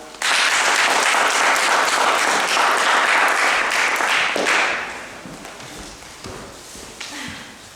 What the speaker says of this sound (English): So please give a big round of applause to Johan.